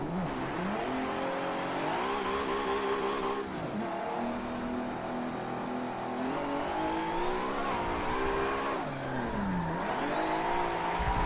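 A race car in Forza Motorsport 7 runs a practice lap, its engine droning steadily with rising and falling revs through gear changes and corners, loud and continuous with no talk.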